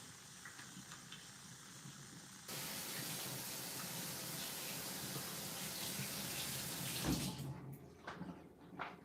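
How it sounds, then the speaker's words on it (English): Water runs from a kitchen tap for washing hands, a steady hiss that starts abruptly and continues at moderate level, with light clinks and handling toward the end. "Let me wash my hands again."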